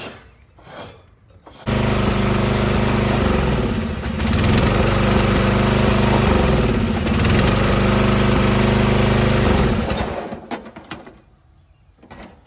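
Free used walk-behind lawn mower engine roars steadily at close range after a short quiet start, wavering slightly in pitch, then cuts off near the end.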